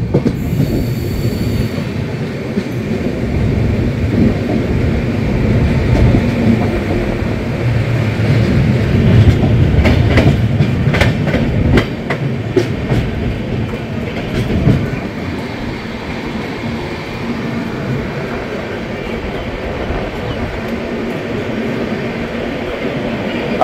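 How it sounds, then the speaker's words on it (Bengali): The Rupasi Bangla Express rolls into platform 1 at Anara station with rumbling wheels and clattering rails, brief metallic squeals midway, then the noise settles as it slows to a stop. "1 নম্বর প্ল্যাটফর্মে ট্রেন দিল"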